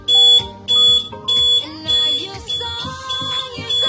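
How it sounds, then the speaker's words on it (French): A home alarm siren, triggered remotely, sounds in loud repeated electronic bursts. Sharp beeping tones pulse about every half second, close and dominant, with no voices over them. "nous avons déclenché l'alarme"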